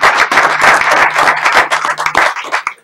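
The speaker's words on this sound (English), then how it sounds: "I think that deserves a round of applause for the high school." A crowd at a school board of education meeting breaks into steady, dense applause for the high school, many hands clapping together before it tapers off at the end.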